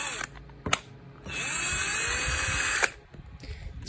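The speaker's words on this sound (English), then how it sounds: "APLMAN 21 volt lithium drill." An APLMAN 21V cordless lithium drill whines up close in a steady, high-pitched run of about a second and a half, preceded by a couple of short trigger blips and clicks.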